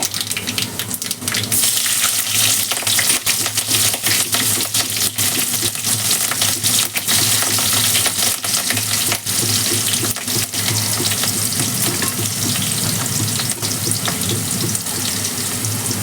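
Fresh green chilies fry in hot oil for a Marathi-style palak dal, a loud, continuous hissing crackle that runs the whole time without letting up.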